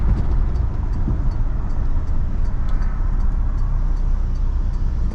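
A 1963 AMC Rambler 330 Wagon drives steadily through a U-turn, its low engine rumble and road noise continuous and close throughout, with no talk.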